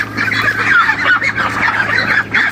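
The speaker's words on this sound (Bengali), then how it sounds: "হাঁসগুলো দেখেন কত সুন্দর," A flock of Peking Star 13 ducks on a farm in Charmonai, Barisal, quacks loudly and continuously up close, with many overlapping honking calls.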